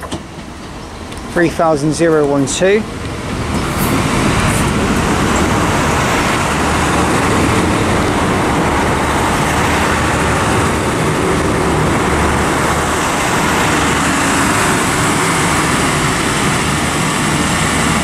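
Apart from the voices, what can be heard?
Northern Ireland Railway passenger train arriving at Lisburn station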